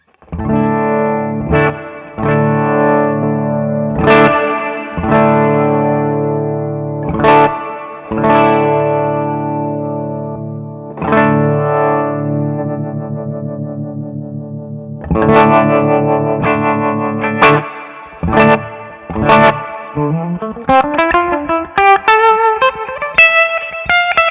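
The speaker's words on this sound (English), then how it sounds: "let's switch it to tremolo reverb" An electric guitar runs through a Keeley ZOMA pedal set to tremolo into reverb, playing loud sustained chords and notes that pulse and ring out, ending in a rising run of quick notes.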